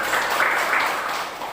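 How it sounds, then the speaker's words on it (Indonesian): Schoolchildren and teacher applauding together in a classroom, a short, steady burst of dense clapping heard close. "tepuk tangan untuk kita semua dulu"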